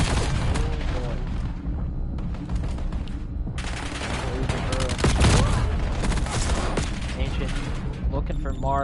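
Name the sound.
gunfire and grenade in video game Black Ops 7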